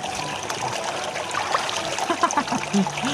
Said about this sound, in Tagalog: Tubig to eh.